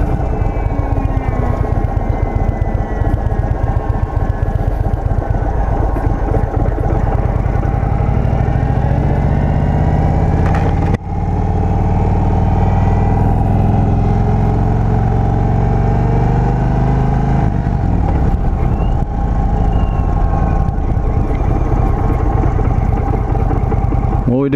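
A 2023 Indian Sport Chief motorcycle engine while riding, a loud continuous rumble rising and falling through gear changes with wind noise, steady and close.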